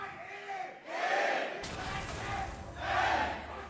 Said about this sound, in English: as we hear, the crowd still favors Origen